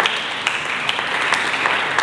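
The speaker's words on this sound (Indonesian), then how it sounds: "Mari kita berikan tepuk tangan bagi Yesus Kristus." A church congregation claps together in a dense, steady burst of applause, loud and close, with no talking over it.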